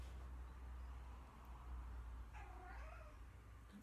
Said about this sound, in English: That's my crazy foster cat running around.